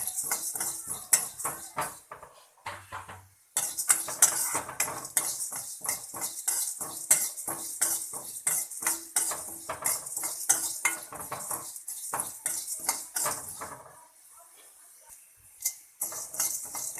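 A spoon clinks and scrapes steadily in a pan as urad dal and fenugreek seeds are added and stirred for a Karnataka temple-style puliyogare spice mix, with brief pauses and a quieter stretch near the end.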